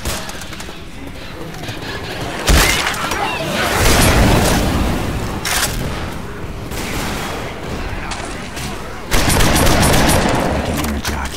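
Rapid gunfire in the Left 4 Dead 2 zombie shooter, dense bursts of automatic shots clattering almost nonstop with louder volleys, mixed with game noise and shouting.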